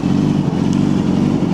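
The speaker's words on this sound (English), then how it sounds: "It's amazing to me how fast these things will rev." A 2008 Yamaha YZF R6 sport bike engine revs steadily with a muffled exhaust note, loud and close, a continuous engine drone with no voices.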